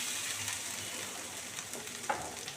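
Garlic and spice masala paste frying in oil for chicken rezala, a steady soft sizzle with faint crackles and a small pop near the end, no voices.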